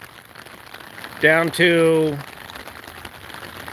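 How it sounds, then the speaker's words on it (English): Steady rain falls at Nevada County Airport in the hills, a continuous soft hiss of drops on surfaces running throughout, with a voice speaking briefly over it. "Just turned into rain."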